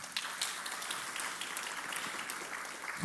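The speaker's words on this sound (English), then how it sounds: "Please give her a round of applause." Audience applause for an honoree at the Seventh Annual Last Girl Awards ceremony, a dense, steady wash of clapping from a sizable crowd, fairly quiet and distant, lasting throughout without speech.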